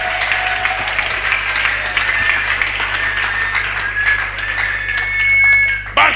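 A church congregation applauds continuously, a dense wash of clapping hands that swells toward the end.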